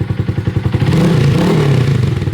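A 2025 Honda Grom with an aftermarket exhaust, heard up close: a fast, loud, pulsing idle that swells into a short rev, then settles back.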